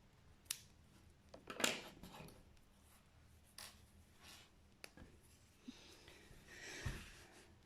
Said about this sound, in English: I'm just going to snip it off.